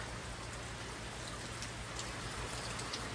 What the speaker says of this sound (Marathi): मला वाटतं अजून जोरात पाऊस पडणार.